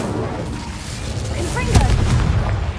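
Incendio fire spell cast in Hogwarts Legacy, a loud whooshing burst of flame over a rumbling boom, with a voice calling out over it in the middle.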